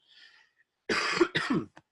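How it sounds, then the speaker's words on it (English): A couple of harsh coughs close up from a person with a cold, preceded by a faint high sound, then a short throaty catch at the end. "sorry about the cough"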